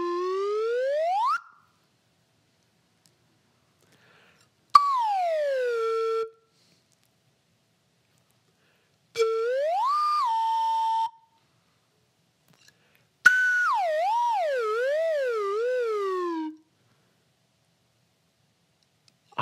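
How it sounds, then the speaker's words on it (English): A slide whistle played in a kindergarten music lesson: four separate phrases, each a clear, loud gliding tone sweeping up or down, with the last one wavering, separated by silent pauses. "I'm gonna play my real slide whistle first"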